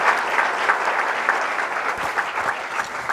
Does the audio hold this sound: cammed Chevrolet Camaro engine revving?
no